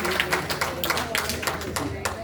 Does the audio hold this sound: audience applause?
yes